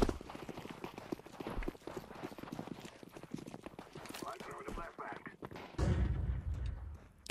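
Desert Eagle pistol fire in Counter-Strike 2, a run of sharp, quick shots mixed with steady game noise and footsteps, ending in a louder burst, while a player talks over the action.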